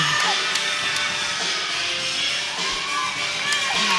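A gymnastics final crowd cheering and whooping at a high school section meet, a steady roar of voices with scattered shouts and sharp claps filling the hall.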